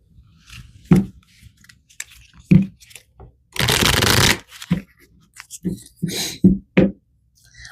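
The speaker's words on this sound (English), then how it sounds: "I'm going to pull some more cards." A tarot deck handled and shuffled: a few sharp taps and knocks, then a loud, dense riffling burst of cards, followed by more close card clacks.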